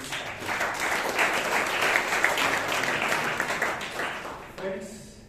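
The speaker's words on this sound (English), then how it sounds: "Let's give a lot of applause to this." An audience at a Toastmasters club meeting in Bangalore claps enthusiastically for several seconds, a dense steady wash of applause that fades out, with a voice starting to speak right after.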